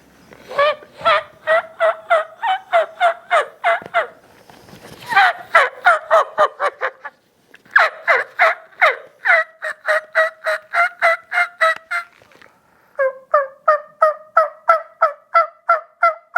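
A handmade turkey mouth call imitates turkey sounds, giving loud, close, rapid rhythmic series of yelps and cutting notes in four bursts separated by short pauses, with no talking.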